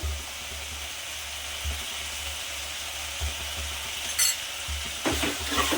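Dal khichdi with garam masala being stirred in a pot, a steady sizzle and low scraping with a few brief metallic clinks near the end, close and alone with no talk.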